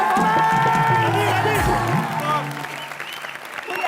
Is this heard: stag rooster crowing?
no